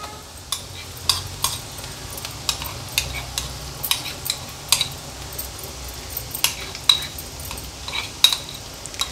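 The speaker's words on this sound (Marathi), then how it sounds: "हा ठेचा ह्या कांद्यामध्ये छान एकजीव करून आपल्याला मीडियम फ्लेमवर परतून घ्यायचा आहे" Prawn thecha being stirred into onions and fried in a pan over medium flame: a steady low sizzle with repeated sharp scrapes and clinks of the spoon against the pan, close and fairly even in rhythm.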